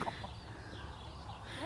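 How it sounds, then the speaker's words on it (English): A chicken on a farm gives a few soft, brief clucks against faint background noise, fairly close and not loud. "Ooh, chicken."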